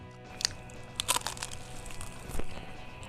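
Several crisp crunches from close bites into brittle, lightly salted smoked pork cracklin, in short irregular bursts with quiet chewing between.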